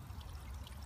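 Small garden waterfall splashing into a pond in a food forest in Lynnwood, WA, a faint, steady trickle and patter heard briefly on its own.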